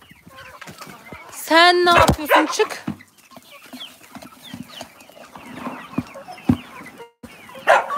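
Feather-footed chickens in a yard give one loud, drawn-out squawk followed by scattered soft clucks close by, while a person talks over them now and then.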